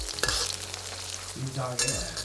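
Onion and star anise sizzle and crackle in hot oil for chili oil while a utensil scrapes and stirs the pan, with a couple of louder clatters, close up.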